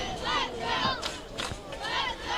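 High-school football crowd at a Tomah versus Mauston game, a student section roaring and chanting in loud, swelling waves of shouting and cheering that rise and fall across the stands.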